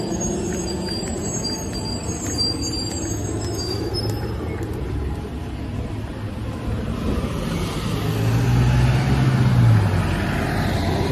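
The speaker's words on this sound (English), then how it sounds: "Another bus." A bus passes by outdoors beside a garden after rain, its engine rumble and tire noise swelling to a loud, broad roar and then fading, with no talk.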